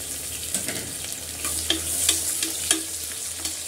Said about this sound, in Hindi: ये प्याज लेके इसमें डाल देंगे